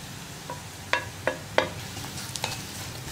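Spice powders are stirred in a frying pan while making an egg roast. A spoon scrapes and taps the pan in several sharp strokes over a soft, steady sizzle, close up and with no voices.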